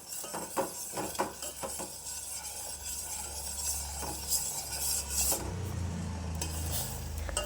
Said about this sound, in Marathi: आता उकळी आल्यानंतर याला आपण चांगलं हलवत राहायचं आहे